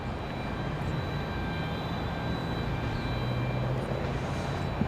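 An airliner taking off from runway 5 left at Raleigh Durham airport on a windy day produces a steady distant engine rumble with a faint high whine over wind noise.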